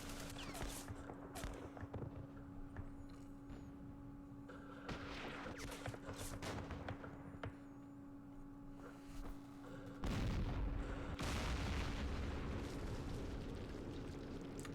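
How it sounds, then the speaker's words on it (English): Machine gun fire and explosions rumble across a Middle East battlefield in the wargame Campaign Series Middle East, faint and distant at first, then growing heavier and louder toward the end. "That machine gun, holy."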